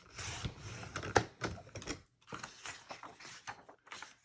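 Paper for a scrapbook page is cut on a trimmer, heard as a close series of quiet clicking, sliding and ratcheting mechanical sounds with one sharper snap.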